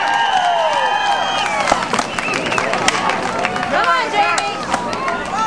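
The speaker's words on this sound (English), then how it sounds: "Cheer them on, folks. They can hear you up there." Spectators cheer and clap at an outdoor springboard tree-chopping race, a lively crowd roar with whistles and shouts under an announcer's voice, with rhythmic axe chops faintly audible through the noise.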